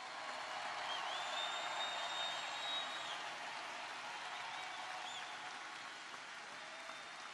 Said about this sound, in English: A round of applause for our hard-working coal miners.